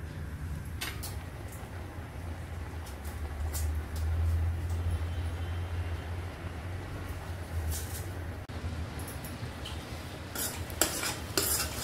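Grated carrots simmer in milk for carrot halwa, a low steady bubbling and hiss with occasional scrapes and clinks of a spoon stirring the pot, close and without talk.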